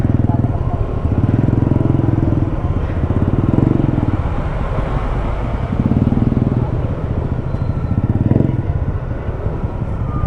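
Motorcycle engines idle and rev loudly in slow traffic on a flooded road, a continuous close rumble with swelling throttle surges throughout.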